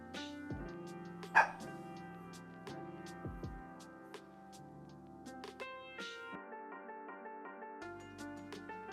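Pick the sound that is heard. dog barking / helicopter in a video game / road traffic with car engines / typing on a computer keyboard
dog barking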